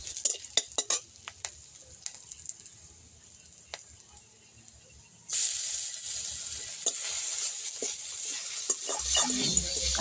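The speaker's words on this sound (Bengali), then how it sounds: "কারি পাতা দিয়ে নাড়াচাড়া করে কাঁচা লঙ্কা কুচিগুলো দিয়ে দিলাম।" Curry leaves and chopped green chillies fry in hot oil with a spoon stirring. Scattered clinks and scrapes come first, then a loud, steady sizzle bursts in halfway through and continues, close and bright.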